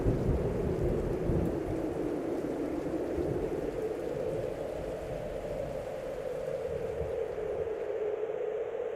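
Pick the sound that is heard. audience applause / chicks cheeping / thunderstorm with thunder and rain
thunderstorm with thunder and rain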